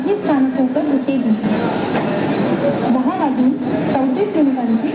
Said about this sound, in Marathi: प्लेटफॉर्म क्रमांक 3 पर आई हुई लोकल 10:44 की कर्जत जाने वाली तेज लोकल है।